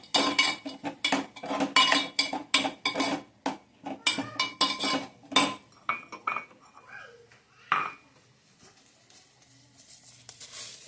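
A metal spoon scrapes and clanks rhythmically against a pan while stirring poha sheera with dry fruits, quick repeated strokes for about six seconds, then a few sparse knocks and near silence.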